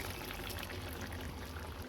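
Ground coconut paste is poured into a pot of tomato and drumstick curry, giving a close, steady wet pouring rush.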